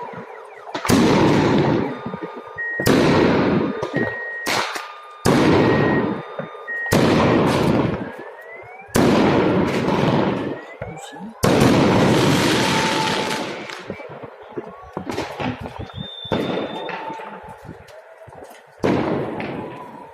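Fireworks salute bursting over Tashkent in 2022, a series of loud booming explosions every couple of seconds, each followed by a rattling patter of falling debris striking a roof.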